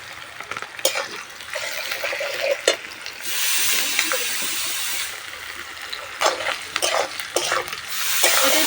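Slit green chillies sizzling in hot oil in a pan while being stirred, with steady frying hiss broken by scraping spoon strokes against the pan; the sound is loud and close.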